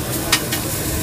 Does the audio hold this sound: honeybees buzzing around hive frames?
no